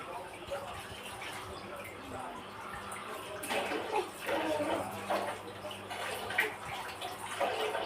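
Running water splashes steadily while something is washed under it for a low-budget ice scramble, a soft continuous rush with faint clinks, fairly quiet and close.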